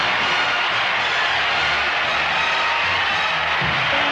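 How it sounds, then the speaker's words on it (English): Stadium crowd giving Johnny Unitas a standing ovation, a broad sustained roar of cheering and applause from a distant mass of fans, steady throughout with faint low murmurs beneath. "They're on their feet, and you want to hear an ovation."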